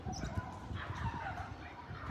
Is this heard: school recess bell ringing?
no